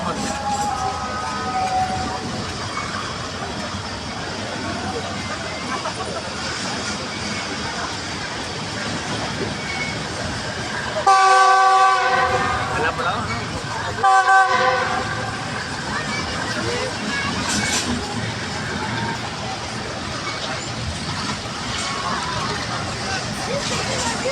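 A passenger train bound for Lahore, Pakistan, runs at speed with constant rolling rumble and rattle, broken by two loud horn blasts partway through, while voices murmur inside the carriage.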